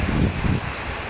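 Heavy rain beating down in a village in a thick, constant rush, with a slightly louder burst at the start.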